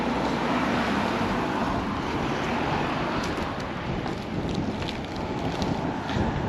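Breezy wind blows steadily outdoors beside a road near Sutton on Sea, a loud, constant rushing buffet across the microphone with no talking.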